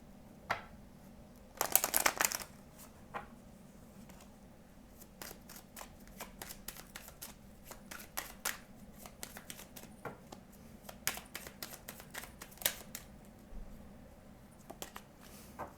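Tarot cards are shuffled for a reading, a sharp riffle burst near the start followed by scattered soft flicks and card taps at close range, quiet overall with no talk.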